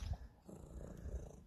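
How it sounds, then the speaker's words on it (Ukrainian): A cat purring up close, a soft low continuous rumble with a steady rhythmic pulse, quiet and alone. "Тільки мурчить і все."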